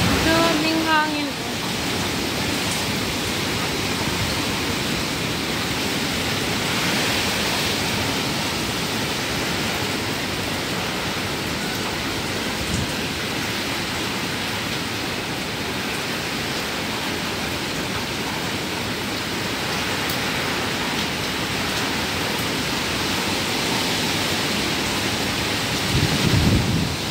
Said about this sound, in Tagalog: Daming hangin.